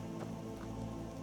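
Steady rain falls in Skyrim, a dense, even patter of drops hissing continuously across the clip with no voices over it.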